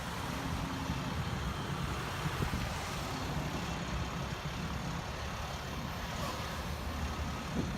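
Road traffic passing near a bike trail, a continuous rumbling wash of cars and trucks with shifting low engine noise and some wind, steady and moderately loud throughout.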